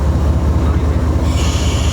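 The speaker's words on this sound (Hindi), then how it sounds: "इंजन कपल हो गया।" A Pakistan Railway GEU locomotive couples to its train, heard as a loud, close rumble of rail machinery with a brief clank and metallic screech near the end, with no talking.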